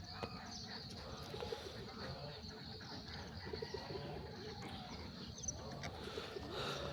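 Soft, low cooing of pigeons repeats under a steady hum of outdoor noise, fairly faint and distant.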